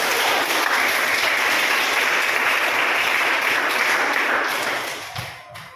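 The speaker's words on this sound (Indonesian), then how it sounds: "Tepuk tangan." Applause and clapping from a group in a classroom or teaching session, a loud dense burst of hands that holds steady and then fades out near the end.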